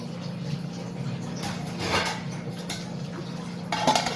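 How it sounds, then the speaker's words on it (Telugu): A metal lid clinks down onto a pot of fish curry cooking on the stove. There are faint scraping clatters first, then a brighter clank near the end, over a steady low hum of cooking noise. "మూతేసేద్దాము"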